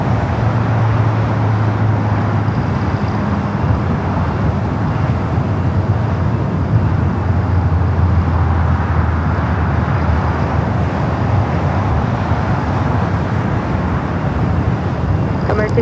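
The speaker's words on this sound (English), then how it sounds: "Bringing back one of the Qantas Dreamliners back to the gate." Continuous low droning hum as a Qantas Boeing 787 Dreamliner is towed back to the gate at LAX, steady and moderately loud with no talking.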